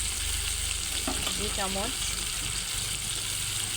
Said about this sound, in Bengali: দিচ্ছি আদা রসুন বাটা